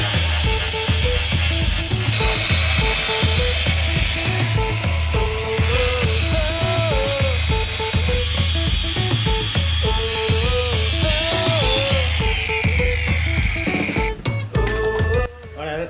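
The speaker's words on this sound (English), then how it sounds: "Cleaned up really nicely just with a flat disc. All that welding splatter's gone now." A flat disc on an angle grinder scours welding spatter off a 1965 Toyota FJ45 axle, a continuous loud grinding whine with rattling, ratcheting undertones that runs unbroken for the whole stretch, alone without talk.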